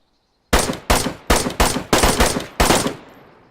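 Six rifle shots ring out one after another, loud and close, in DayZ, each a sharp crack with a short decaying tail, spaced about half a second apart with no talk.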